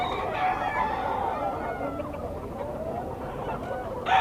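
Sweater gamecock rooster, three years old, at a bustling pet market, giving a continuous run of close clucks and murmuring calls over steady background crowd noise.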